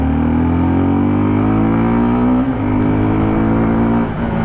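A 2022 Suzuki Gixxer SF 250 motorcycle accelerating, its engine note rising loud and close in a smooth climbing drone, with a brief dip around a gear change before pulling on.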